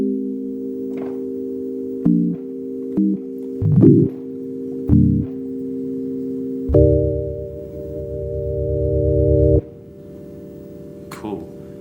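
Yamaha DX1 FM synthesizer playing short stepped tones, then a long sustained note that fades out in its release, with a faint voice near the end.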